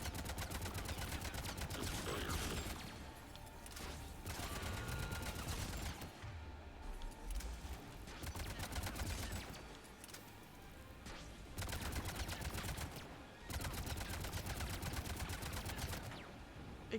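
Sustained gunfire in Mass Effect 3 combat, rapid automatic bursts rattling continuously with a few brief lulls, loud and close over a dense battle backdrop.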